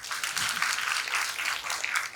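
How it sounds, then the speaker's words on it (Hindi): A group of people attending an introduction session claps together, a brisk even patter of many hands that lasts about two seconds without pause. "ताली बजाओ"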